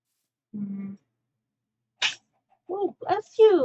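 A pet cat gives a short sharp sneeze, followed by a person talking softly nearby in an otherwise quiet room.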